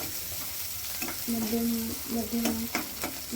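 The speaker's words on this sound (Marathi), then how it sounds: "कांदा थोडासा छान फ्राय होऊ द्यायचा आहे." Finely chopped onion fries with cumin in a pan, a soft, steady sizzle with a spoon scraping and stirring at intervals, close and fairly quiet.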